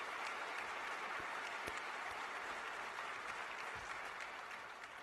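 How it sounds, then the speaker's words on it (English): An audience gives a round of applause for allies and partners at a speech by the Joint Chiefs chairman, a steady, even wash of clapping that lasts about five seconds and is heard at moderate distance. "I'd like a quick round of applause for the allies and partners that are here."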